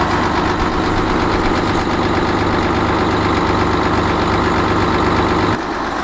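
An old truck engine idles roughly just after a cold start in icy winter weather, a loud, close, steady rumble with uneven knocking that cuts off abruptly near the end.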